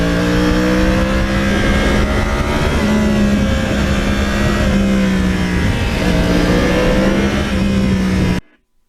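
Yamaha R1 crossplane sport motorcycle fitted with a quiet exhaust, engine running loud and close with a steady droning rumble and slight rises in pitch for about eight seconds before cutting off abruptly.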